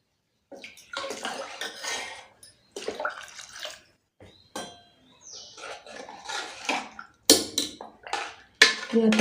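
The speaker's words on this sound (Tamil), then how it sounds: "இப்போ நம்ம எவ்வளோ சாம்பார் தேவையோ அந்தளவுக்கு தண்ணி சேர்த்துக்கோங்க." Water is poured into a pan of hotel-style tiffin sambar in bursts of splashing, with a few clinks of utensils between the pours, heard close up in a quiet kitchen.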